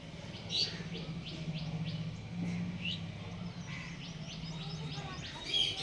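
Repeated chirping and tweeting bird calls ring out over a steady low hum, with Kalshira pigeons and other birds calling close by while a voice speaks faintly in the background.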